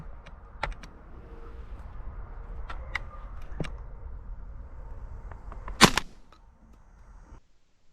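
A gun is fired at a dove during an outdoor hunt, recorded from a backpack-mounted GoPro Hero 10: one sharp, loud shot cracks out near the end after several seconds of faint clicks and rustling.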